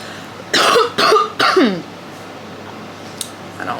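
Three harsh coughs in quick succession, fairly close, followed by quiet room tone with a faint click.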